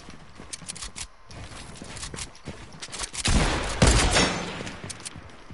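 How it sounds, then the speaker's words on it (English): Rapid bursts of video game gunfire crackle together in a dense volley, loudest near the middle and tapering off, over steady game background noise. "Yo, I shot and I didn't have to reload."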